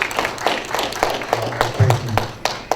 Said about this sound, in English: So you can all clap for them too.